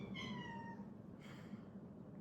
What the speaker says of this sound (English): Oh my gosh, the cat is on the counter.